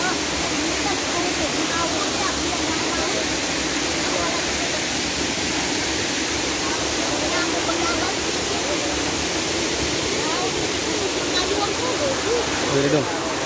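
Water pours steadily at a waterfall, a dense, loud, continuous rushing hiss that stays even throughout.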